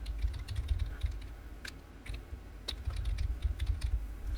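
Typing on a computer keyboard to enter an email address: a steady, dense run of close, crisp key clicks with no voices.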